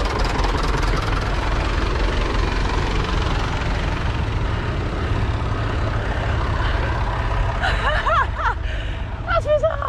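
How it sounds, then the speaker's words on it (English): A low, rumbling tractor engine chugs steadily close by on quiet country lanes in Dorset, with voices talking faintly over it near the end. "tractor rides around the quiet lanes of Dorset"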